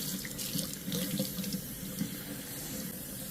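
Water runs steadily from a tap onto a curly wig being shampooed, a close, continuous splashing rush with no voices.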